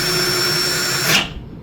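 A power drill whirs steadily at close range in a city garden, then winds down and stops near the end.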